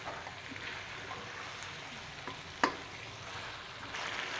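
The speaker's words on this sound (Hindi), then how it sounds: "अभी इसमें हम पाउडर मसाले शामिल करते हैं और इनको अच्छे से इसमें मिक्स करते हैं और साथ भूनते हैं कलेजी के साथ ही इनको।" Chicken liver frying in a pan with powdered spices being stirred in, a faint steady sizzle with soft stirring scrapes and one sharp clack of a utensil partway through.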